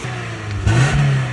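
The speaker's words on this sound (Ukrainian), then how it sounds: "в цілому мотор працює рівненько" A Geely car engine, which runs on both gas and petrol, hums close and steady, then swells briefly in a short rev before settling back.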